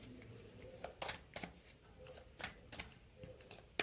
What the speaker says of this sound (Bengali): আর একটা কার্ড নেব।